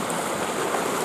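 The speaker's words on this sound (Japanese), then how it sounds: "すぐ横に川も流れてますね" A river flows right beside a winter campsite in Tokachi, a steady close-up rushing babble of water that holds constant with no voices.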